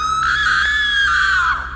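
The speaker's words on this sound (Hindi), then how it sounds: "वो बहुत ज़ोर से चिल्लाई" A woman lets out one loud, long, high-pitched scream as a horror-story sound effect. It holds steady for almost two seconds before it wavers and fades.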